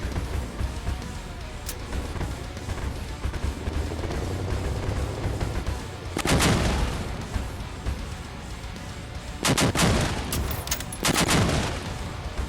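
Buran weapons on a spider-legged craft with a refrigerator cab in the vehicle combat game Crossout Mobile fire in loud cracking bursts, one early shot then clusters of sharp blasts over a rumbling mechanical drone.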